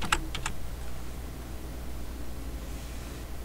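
A few quick keystrokes on a computer keyboard as a password is typed. The short burst of clicks comes up close at the start, followed by quiet room hiss.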